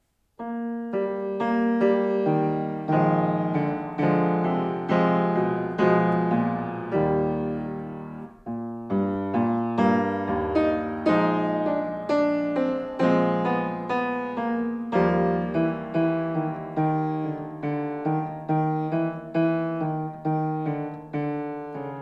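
A piano plays a flowing, steady melody with rolling accompaniment from Beethoven's Pathétique Sonata, second movement, clear and close, with a brief pause partway through and no talking.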